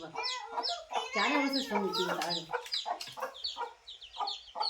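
Chicks cheep in high, rapid peeps, several overlapping up close, with a person speaking briefly over them.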